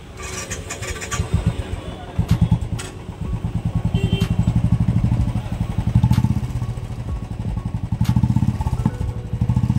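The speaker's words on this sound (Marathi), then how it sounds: "सायलेन्सरचं फिटिंग झालेलं आहे ना, आवाज ऐकलेला आहे तुम्ही। तर हा आहे इंदोरी सायलेन्सर" A Royal Enfield Classic 350 Bullet motorcycle with an aftermarket Indori silencer idles with a deep, throaty, pulsing exhaust note, revving up a few times with sharp clattering ticks on top.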